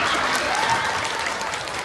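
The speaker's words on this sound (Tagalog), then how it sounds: "Palakpak yun." Applause from an audience at a school retirement program, steady and sustained throughout, fairly close and full.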